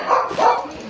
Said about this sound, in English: I'm riding this dog.